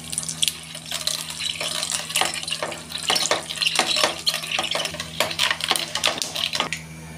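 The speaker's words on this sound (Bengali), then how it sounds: "তেল গরম হয়ে গেছে, আম ডালের জন্য সর্ষে ফোড়ন দেব। সর্ষেগুলো একটু চামচ দিয়ে ডলে দেব।" Mustard seeds crackle and pop in hot oil in a pan while a spoon stirs and rubs them. The pops come as many quick, close, bright ticks over a low hum, and no one speaks.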